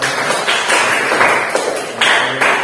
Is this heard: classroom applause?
yes